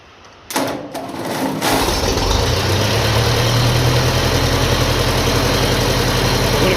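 A 1957 Ferguson FE35 tractor with a TVO engine starts and settles into a loud, steady running rumble after a few brief clicks.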